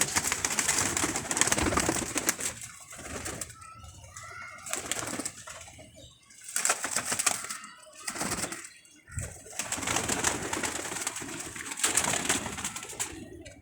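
Pigeons in a pigeon club coo and rustle up close, with some wing flapping. Their calls rise and fall in bursts, and there are brief pauses between them.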